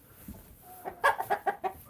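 A chicken clucks several times in a quick, uneven series of short calls, fairly close, with faint background noise before the calls start.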